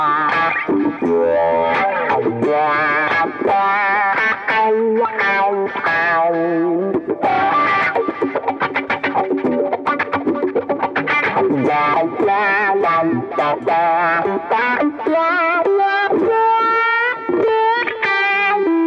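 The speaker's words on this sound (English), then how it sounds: "really, really nice sounding wah, great vocal range on it" Electric guitar played through a Morley M2 wah pedal, distorted tone with sweeping vocal-like wah filtering over strummed and picked phrases, loud and continuous throughout with no talking.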